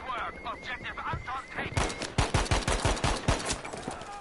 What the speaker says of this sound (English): That was 4 shots again.